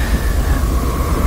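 Inside the video game Mother's Inferno, a subway train rumbles steadily with a sustained tonal hum, loud and continuous through the whole short stretch.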